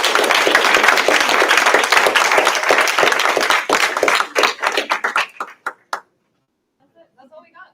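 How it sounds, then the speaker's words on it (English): A room full of people at a startup demo day applauds loudly, the dense clapping thinning into a few scattered claps before falling silent, with faint voices at the end. "Can I get one more round of applause for all the startups in this room?"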